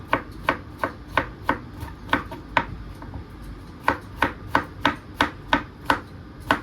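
A knife chops through pumpkin on a board in a run of sharp, evenly spaced knocks, about two per second. The knocks are close and distinct, with a short pause near the middle.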